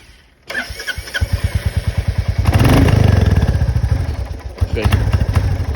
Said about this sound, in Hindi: स्टार्ट हो रही है तो आगे नहीं बढ़ रही, जैसी रेस दे रहा हूँ बंद हो रही है।